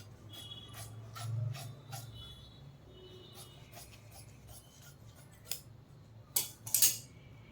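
Scissors snipping through fabric while cutting pieces for a long gown, soft repeated blade clicks spread across the stretch, faint and close, with a few sharper snips near the end.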